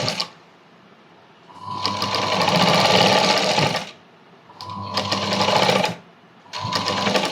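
A sewing machine stitches blouse fabric in three runs of steady, buzzing rattle separated by short pauses; it is close and loud, with no talk.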